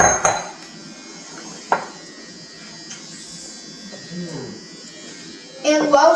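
An electric mixer whirs steadily through chocolate chip cookie dough in a home kitchen, a continuous buzzing drone with a few knocks and clatters, while voices murmur faintly underneath.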